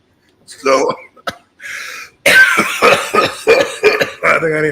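A man coughs in several harsh, rapid bursts, loud and close, mixed with throaty vocal sounds and breathy noises from a live broadcast setting.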